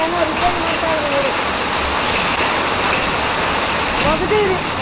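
Heavy rain pours steadily in Siddapura, a dense, constant hiss of drops hitting surfaces close by, loud and unbroken throughout, with faint voices barely showing beneath it.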